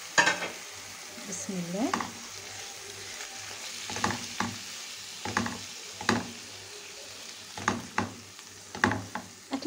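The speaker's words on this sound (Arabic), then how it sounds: "وهاخده تقليبه حلوه كده بالبصله" Chicken breast pieces sizzle and fry with onion in a pan, stirred in repeated scraping strokes at a steady rhythm over a constant low hiss, with a brief spoken word near the start.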